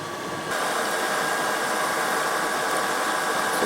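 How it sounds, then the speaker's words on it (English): A small drill bit runs through a workpiece held in a vise on a machine fitted with Wilton Baby Bullet copper jaws, producing a steady, loud, continuous whirring hiss that starts abruptly and holds without pause. "This is a handy trick for drilling with real small drills too"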